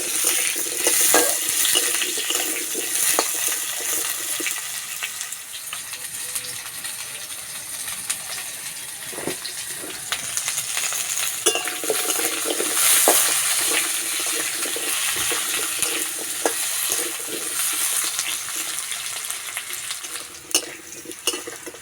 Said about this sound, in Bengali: কেটে রাখা আলু দিয়ে দেবো আলু বেশ লাল লাল করে ভেজে নেব